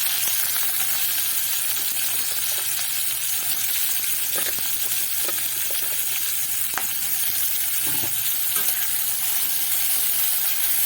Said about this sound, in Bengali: ওই তেলে আমি উচ্ছেগুলো বা করলাগুলো ভেজে নেব